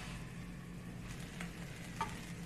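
Quiet, steady sizzling of ground meat frying in a pan for bolognese lasagna, with a couple of faint scraping stir sounds.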